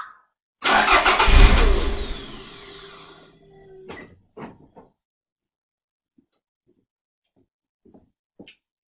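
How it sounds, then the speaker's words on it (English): A Toyota MR2 engine cranks loudly with a rapid churning whir for about two seconds, then sputters and stalls into a few scattered faint clicks and knocks. "We'll do a normal crank, let it stall first and see what we get."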